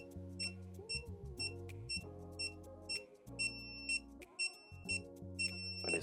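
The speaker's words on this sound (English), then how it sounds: "So the controller beeps" A PET HEY F900+ wireless dog fence controller emits a series of short, regular electronic beeps, close and clear, over a background of music or tonal hum.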